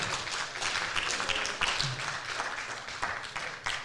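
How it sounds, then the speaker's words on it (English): An audience at a fall sports awards ceremony applauds a varsity team, steady dense clapping from many hands filling the room throughout. "I want to give these guys a big round of applause"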